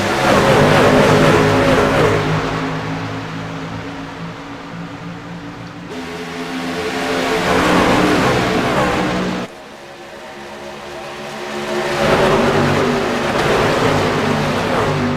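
Race cars accelerating around the Daytona speedway, loud engine roars swelling and fading as cars pass, with sharp shifts in pitch and intensity as they come out of turn two onto the back straightaway.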